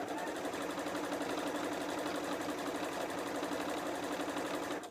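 Sewing machine stitching fabric for a fat-quarter book cover, a fast, even mechanical chatter running continuously at close range before stopping abruptly at the end, no voices.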